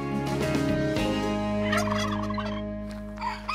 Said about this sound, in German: Guck mal, der Truthahn.